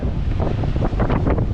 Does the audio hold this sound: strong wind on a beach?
yes